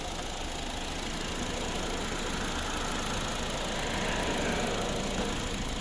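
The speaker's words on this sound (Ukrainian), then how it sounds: "почалася робота двигуна" A Honda Civic hybrid imported from Switzerland idles steadily, a continuous mid-pitched engine hum at close range with no voices over it.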